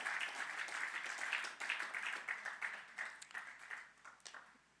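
A church congregation applauds during a sermon, steady clapping at a distance that rises and then tapers off, fairly faint and uneven toward the end.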